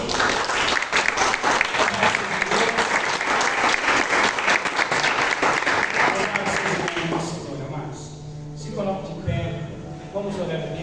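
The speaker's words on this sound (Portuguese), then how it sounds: "Aplauda Jesus" A church congregation applauds at a Portuguese-language worship service, a loud sustained burst of clapping that fades after several seconds as someone speaks over it.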